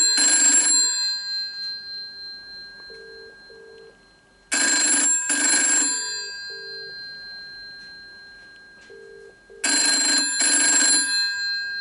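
A GEC TELE-2W-AWT railway wall phone rings for an incoming call with loud double bursts of its bell, heard three times with quiet pauses between them.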